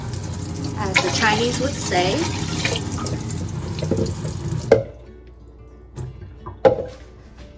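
Water pours from a tap into an Instant Pot for fish congee, a loud, steady gushing stream for about five seconds that then stops, followed by a few clinks and knocks, with a voice speaking briefly over it.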